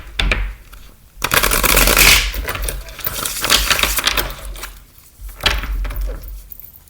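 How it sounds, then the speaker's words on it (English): Tarot cards being shuffled by hand in bursts of dense riffling and flicking, a short pass followed by a longer, louder run and a final quick shuffle, close and alone with no voices. "Just gonna do one more shuffle here."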